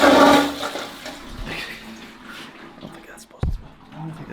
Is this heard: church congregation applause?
no